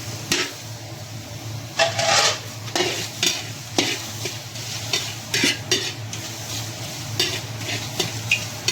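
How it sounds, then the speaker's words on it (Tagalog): Tomatoes sautéed in a pan without oil, with a spatula scraping and stirring in repeated strokes over a soft, steady sizzle, close and alone. "Gisa natin yung kamatis so na walang mantika"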